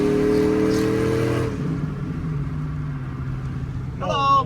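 A cammed Chevrolet Silverado truck with a full exhaust revs hard with a deep, throaty exhaust roar, then settles into a lower, rumbling idle close by.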